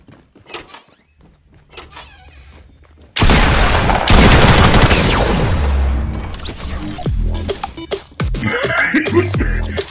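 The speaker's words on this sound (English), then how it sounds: "They're going towards the gunfire right now." Gunfire in the video game Fortnite, a sudden loud burst of rapid shots and blasts that dominates the middle and continues in quieter volleys, after quiet faint sounds at the start.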